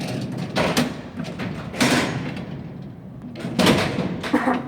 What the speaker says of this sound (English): that hammer's gonna grab it, and then it's gonna pull that door over